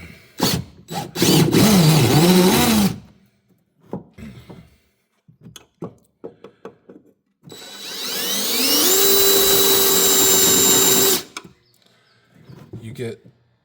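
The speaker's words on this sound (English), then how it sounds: "So I mounted this plate so that I can use the 3/8 drill bit." A power drill fitted with a 3/8 drill bit bores through a steel mounting plate on a 2015+ car's upper rear shock mount, two loud sustained whines of a few seconds each, separated by clicks, handling noises and brief talk.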